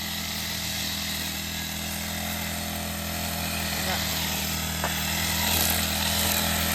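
Gasoline grass cutter running steadily on a farm, a continuous buzzing two-stroke engine drone that holds for the whole stretch, swelling a little near the end.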